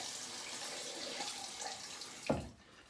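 Water running and splashing as shaving soap is rinsed off a razor, a steady rush with a short louder splash near the end.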